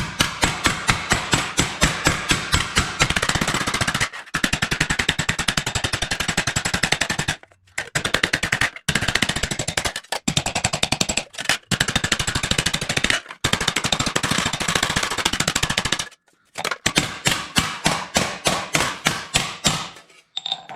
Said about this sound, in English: I'm just going to tap it a few times here on the anvil to get it flattened out.